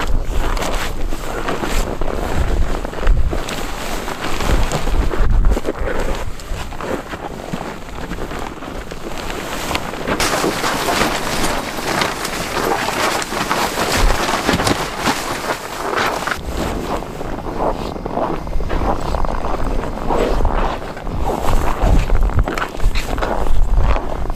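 Strong wind gusts buffet the microphone outdoors on open ice while an Otter Hub ice-fishing shelter is anchored down, a loud continuous roar with surging gusts and occasional flapping and footsteps, no talking.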